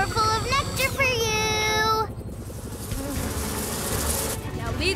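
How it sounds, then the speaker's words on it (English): Cartoonish buzzing of animated bees with sliding, whistly tones up front, then a steadier busy drone continuing under background music. "The bees are going into the beehive to make more honey."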